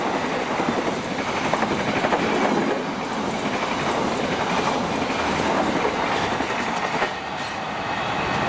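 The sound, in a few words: Fajar Utama train passing on the rails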